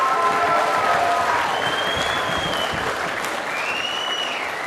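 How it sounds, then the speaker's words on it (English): A crowd at a Stand For Life gathering at Naenae College applauds and cheers in a sustained, even burst, with a few whistles rising above the clapping. "Can we give them a round of applause?"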